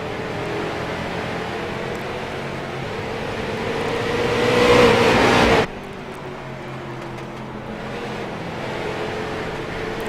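Race cars circle a track, their engine noise swelling as the cars approach and peaking before cutting off abruptly, followed by a quieter, steady rumble of cars farther away.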